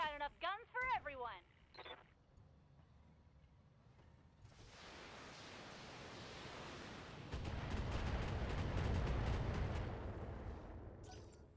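In BattleTech, a mech fires an LRM-20 missile volley: after a short burst of voice, a rushing roar builds and swells into dense, rapid crackling impacts that stay loud toward the end.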